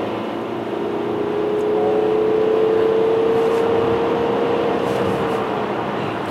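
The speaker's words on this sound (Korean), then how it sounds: "다시 한번 가속해 볼까요?" Kia Sorento family SUV accelerating on the road, a steady engine and road drone from inside the cabin that swells slightly and holds, with a faint rising tone and no talking.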